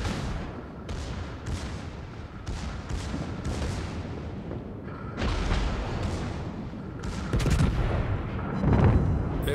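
Heavy naval gunfire from the British Tier-3 premium battleship HMS Dreadnought in World of Warships, a run of loud booming salvos and blasts repeating irregularly, with denser, louder firing toward the end.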